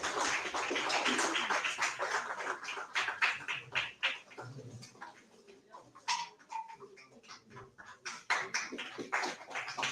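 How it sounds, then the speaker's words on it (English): Applause from the audience at an education policy event, a scattered crowd clapping that swells and thins, with irregular claps and a faint voice underneath. "Please give a huge round of applause for them."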